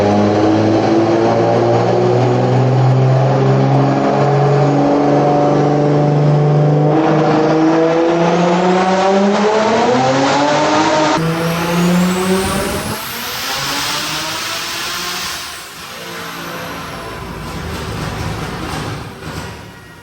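Built BMW B58 engine with cams, revving hard on a dyno pull, a loud close rising engine howl climbing steadily in pitch, then a sharp shift and blow-off before the revs drop away.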